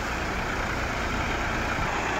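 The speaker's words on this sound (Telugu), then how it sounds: "బోటును ఒడ్డు తీసుకుని ట్రాక్టర్ సాయంతో అలా ఒడ్డుకు నెడతారు" A tractor's engine drones steadily on a beach while pushing a fishing boat ashore, a continuous rough rumble blended with surf and wind noise, with no voices.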